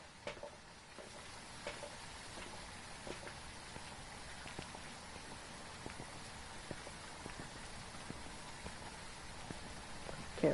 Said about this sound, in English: Can't light it outside because it's raining.